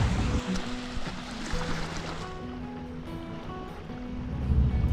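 Steady, close wash of water lapping and sloshing against something at an inlet in the Florida Keys, with a soft wind-like hiss and a few thin tonal notes faintly behind it.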